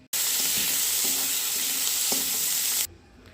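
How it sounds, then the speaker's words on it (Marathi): Onion, tomato, two cloves, two peppercorns, cinnamon, coriander and garlic sizzling steadily in hot oil, with a few stirring scrapes, then the frying cuts off abruptly near the end. "कांदा, टोमॅटो, 2 लवंग, 2 मिरी, दालचिनी, कोथिंबीर, लसूण. याला आता आपण तेलात तळून घेणार आहोत."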